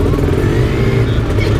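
Suzuki GSX motorcycles pass close by with a loud, rough, continuous engine roar, and a voice may be speaking underneath.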